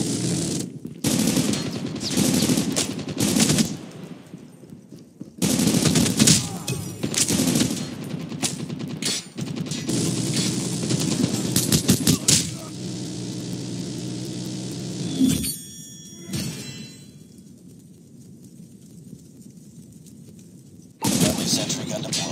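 An automated sentry gun in Call of Duty Mobile rattles out long bursts of rapid machine-gun fire, loud and close, with brief pauses and mixed battle noise as a voice speaks.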